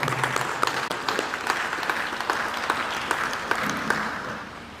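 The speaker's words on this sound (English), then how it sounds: "Let's give Mr. Amran Njie a round of applause" An audience at a fundraising seminar and dinner applauds steadily, with dense overlapping clapping from a crowd that holds a fairly even level throughout.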